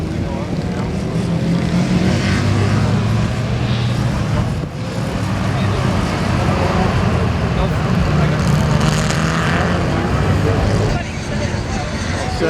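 Vintage two-stroke racing motorcycles pass in a tight pack on a road course, their engines merging into a constant loud, distant roar with swelling passes and no breaks.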